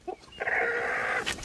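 A hen gives a short burst of clucking beside a grass-lined nest as she is handled, loud and close, with brief rustling before and after.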